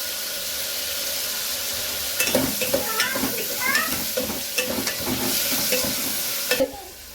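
Tomatoes and onions sauté in a pan with a pinch of rock salt, an ongoing sizzle overlaid with frequent clattering stirs and scrapes of a spatula, close and fairly loud.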